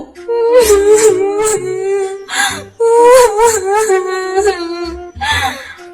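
A cartoon mother bird cries in a high, wavering voice, with long sobbing wails broken by short gasps and a brief pause midway, loud and close throughout.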